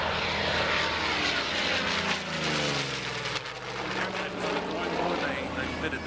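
A gull-winged fighter-type aircraft with an R2800 twin-row radial engine passes at an air show, a loud, throaty propeller drone with a sweeping pitch shift as it goes by, dipping midway and then building again.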